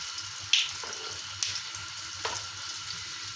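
Oil sizzles steadily as sesame balls fry in a pan, with occasional sharp clinks and pops over the continuous hiss.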